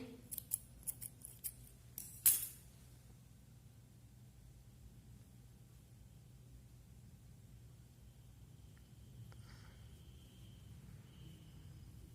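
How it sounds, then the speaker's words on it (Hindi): Scissors snip through knitting yarn while a child's sweater is being hand-knitted, a few quick close cuts at the start ending in one sharp louder snip, then quiet room hiss. "इसको यहाँ कैंची से काट के धागा इसको बंद कर देते हैं"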